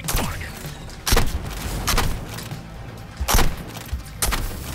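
Sniper rifle fire in the Suicide Squad video game: four sharp, loud shots spaced about a second apart, each a hard crack with a thudding tail over a steady bed of combat noise.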